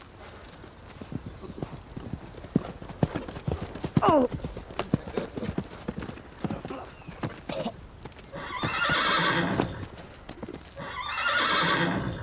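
Loose horses on a farm with hooves clip-clopping and a sharp whinny partway through, then heavier noisy rumbles of movement toward the end; a person cries out briefly amid the commotion.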